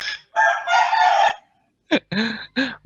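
A rooster crows loudly and close by, one long drawn-out call followed by several shorter broken bursts, with no other sound around it.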